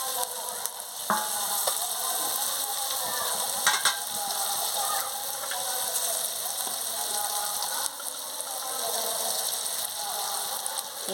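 Bay leaf, onion and dried chili sizzle steadily in hot oil in a Bengali fish-head chorchori pan, a continuous close crackling hiss with occasional stirring scrapes and no voices.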